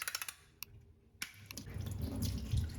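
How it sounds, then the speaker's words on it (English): Haricot beans rinsed and drained under running water, a few sharp clinks and splashes giving way to a steady faucet stream pouring into a sink. "Start by rinsing and draining your beans."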